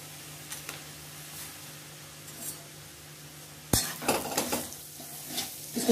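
Bay leaves land in hot ghee with a sudden loud crackle that swells into continuing sizzling and clinking of a utensil against the pan, after several seconds of quiet kitchen hiss.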